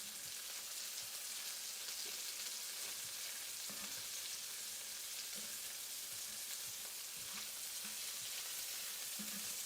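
Meatballs browning in a frying pan, a steady bright sizzle of hot fat that runs without a break, up close and moderately loud, with an occasional soft scrape or tap of a utensil.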